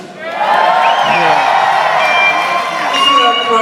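Live crowd at a Charlie Sheen comedy roast in DC roaring with cheers, whoops and high screams, loud and sustained from start to finish.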